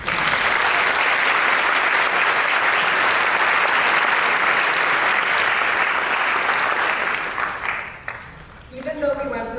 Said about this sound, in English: And for that, we applaud you.